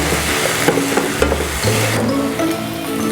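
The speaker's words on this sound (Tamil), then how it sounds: "இப்போ வந்து நம்ம மஞ்சூரியனை போட்டு மிக்ஸ் பண்ணிக்கலாம்." Gobi manchurian is tossed and stirred in a frying pan, with a steady loud sizzle of hot frying under scraping spatula strokes, close and continuous, with no voices.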